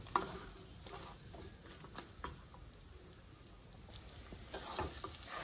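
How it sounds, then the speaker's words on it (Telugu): Boiled country chicken frying in a curry with pumpkin and melon seeds and cashews, a soft continuous sizzle with occasional stirring scrapes and spatters, fairly quiet and steady. "ఉడకబెట్టుకున్న చికెన్ దీనిలో వేసేసాను."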